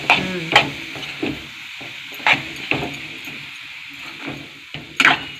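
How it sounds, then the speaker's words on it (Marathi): A spoon scrapes and knocks against a pan while agave leaf vegetable is stirred and mixed, giving irregular sharp clacks over a faint sizzle. There is no talking. "हे चांगलं मिक्स करून घ्यायचं"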